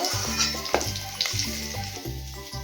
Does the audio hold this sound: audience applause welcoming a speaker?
no